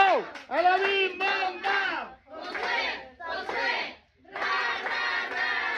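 A crowd at a party chants in loud rhythmic unison, call-style shouts in repeated bursts with brief pauses between them, with faint clapping underneath.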